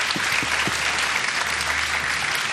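Studio audience applauding during a Ramadan iftar TV show, steady broadband clapping sustained throughout with a few low thuds underneath, fairly loud and continuous.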